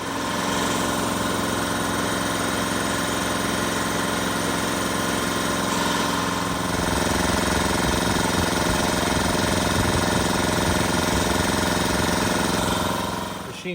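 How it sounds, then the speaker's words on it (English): An air compressor runs loud and close while filling up, a continuous rattling, vibrating drone with a steady mechanical hum that barely changes throughout. "Machine definitely takes a while to fill up"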